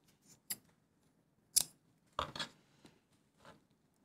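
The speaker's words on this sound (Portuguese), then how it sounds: "Pegar aqui uma tesoura e cortar." Scissors snip through a length of cotton twine while making a wooden-scrap owl, giving a few faint, sharp isolated clicks with quiet gaps between them.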